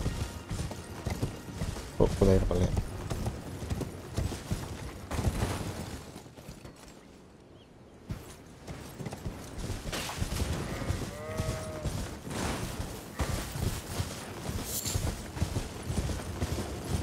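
Rhythmic clip-clop of horse hooves amid busy Elden Ring game sound effects, with occasional chimes and a brief quiet lull midway.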